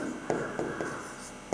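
A pen writes the word invisible on paper, making soft scratchy strokes with a few quick taps, quiet and close.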